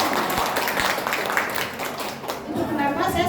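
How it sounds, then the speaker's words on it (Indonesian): An audience at a training session for preschool and kindergarten teachers claps steadily and at moderate volume throughout, mixed with crowd murmur. "Tepuk tangan dong buat kita."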